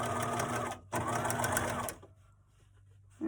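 Sewing machine stitching the lining of a make-up bag, two close bursts of rapid steady needle chatter with a brief pause between, then it stops and the room goes quiet.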